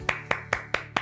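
Five sharp, evenly spaced hand claps from a morning assembly at a workplace, crisp and close in a quick steady rhythm with nothing else heard.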